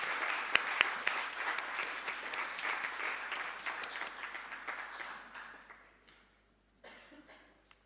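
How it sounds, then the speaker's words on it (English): Applause from an audience at an anniversary event at Parliament, steady clapping with a few sharp claps early on, thinning out and fading after about five seconds, then a brief few claps near the end. "Can I please ask you all to give Amakura a round of applause?"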